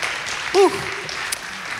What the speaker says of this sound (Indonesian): Kasih tepuk tangan sekali lagi untuk Bro David